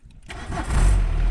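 A Peugeot 106 engine cranks briefly and catches, settling into a steady rough idle, close and loud, alone without speech.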